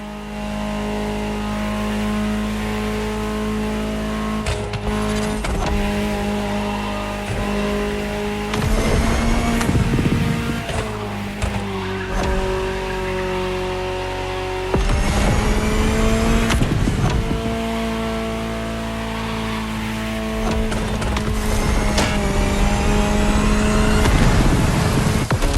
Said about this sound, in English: Just listen to the car you're driving.